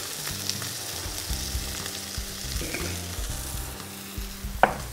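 Onion and crushed garlic fry in a smoking-hot pan, a steady close sizzle with brief stirring scrapes and a sharp clink near the end, no talk.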